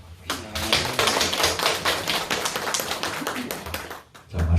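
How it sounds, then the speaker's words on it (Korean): Church congregation applauding a small choir, a burst of dense hand clapping that starts quickly, stays fairly even, and fades out after a few seconds. "찬양대 경례의 박수를 하고"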